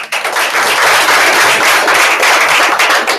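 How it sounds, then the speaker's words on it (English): Loud, dense applause fills a sales meeting, steady clapping from a group of people throughout with no break. "Give her a round of applause."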